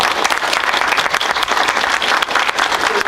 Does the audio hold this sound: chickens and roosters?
no